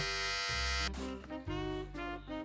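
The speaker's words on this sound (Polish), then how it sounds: "Dlatego golę głowę na łyso." An electric shaver buzzes close up while shaving a head bald, a loud steady hum that shifts in pitch as the blades press against the scalp and change angle.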